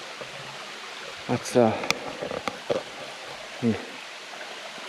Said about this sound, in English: it looks like we're coming up to another decent sized waterfall right there